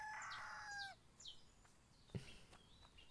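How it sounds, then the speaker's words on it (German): A cartoon chicken in the Everdream Valley video game gives a crowing, clucking call at the start, followed by quieter chirps and a single soft knock. "Hilde das Huhn."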